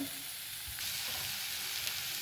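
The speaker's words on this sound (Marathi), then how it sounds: "आता आपण हा मसाला छानपैकी परतून घेऊन" Spiced masala for aloo mutter bhaji, a potato and pea curry, fries in a pan with a steady, close hiss and sizzle and a few faint stirring knocks.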